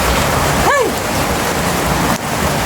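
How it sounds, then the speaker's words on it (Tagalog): Heavy rain pours in a dense, loud, steady hiss, with a brief rising whistle-like tone partway through. "lalo lumakas yung ulan"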